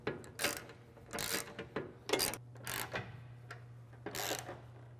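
A ratchet with a swivel tightens the mounts of a roof rack on a Toyota Tacoma, giving close bursts of clicking strokes in an uneven rhythm over a low steady hum.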